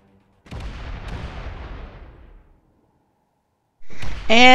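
A torpedo strikes a military ship in Space Engineers, setting off a deep, rumbling blast that rolls on for about two seconds before fading, then a short burst of harsh noise with ringing electronic tones.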